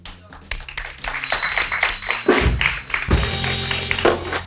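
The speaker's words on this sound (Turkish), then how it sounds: "Alkışlayalım ikisini de." A Turkish late-night talk show studio audience applauds, a dense burst of clapping that swells and carries on over background music and noise, close and lively throughout.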